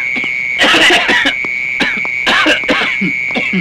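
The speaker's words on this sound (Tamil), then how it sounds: "நாங்க இருமல் பண்ணி சிக்னல் கொடுக்குறோம்" Deliberate coughing used as a signal: several forced, throaty coughs and throat-clearing bursts in quick groups, loud and close, with a steady high tone humming underneath.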